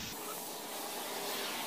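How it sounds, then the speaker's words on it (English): Spray gun laying a light clear coat onto a truck grill, a continuous close airy hiss steady throughout, with no voices. "All right, guys, I'm gonna clear coat it."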